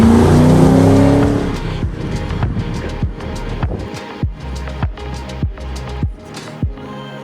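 A 6.2 litre GM LS3 V8 engine in a custom Land Rover Defender 110 with a 6-speed automatic roars loudly at first, then settles into a deep steady rumble punctuated by regular sharp thumps, close by with no voices.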